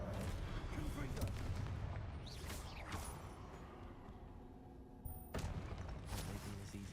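Confringo blasting spells explode in Hogwarts Legacy, giving repeated booming blasts and crackling impacts amid busy combat noise, with a sharp burst near the end and a voice calling out spells.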